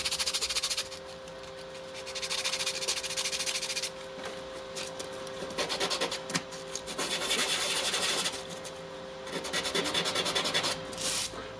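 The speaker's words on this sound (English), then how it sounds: "Let's try to sand it a little bit more." Sandpaper rubs hard against the brush holder of a Makita HR2470 rotary hammer in a repair shop, producing loud, close, rasping strokes in several long bursts with short pauses, a faint steady hum behind and no voices.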